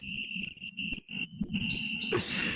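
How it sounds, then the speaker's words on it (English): Crickets chirp in the woods at night, a steady, loud, continuous high trill that fills the whole stretch with only brief dips. "Because the crickets are pretty loud."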